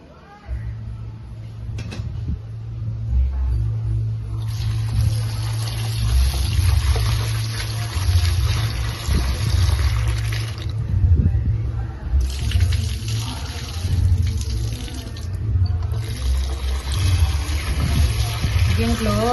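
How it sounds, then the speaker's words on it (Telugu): Water runs from a tap over mutton pieces being washed for curry, a steady close gush with sloshing and intermittent bursts as the meat is rinsed, with some speech in the background. "వాటర్ పోసేసి కడుక్కున్నాం ఇప్పుడు"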